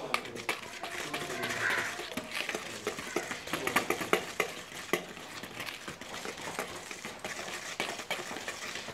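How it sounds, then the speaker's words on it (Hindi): Chicken powder being mixed into flour in a bowl, with scraping and stirring rustles, light clinks of a utensil against the bowl and a few sharper taps, close and steady with no talk. "इसको अच्छी तरह से मिक्स करते हैं।"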